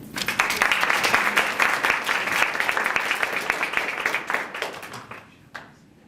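An audience gives warm, sustained applause welcoming author Len Norman at a library lunch book talk, with dense clapping that thins out and fades near the end.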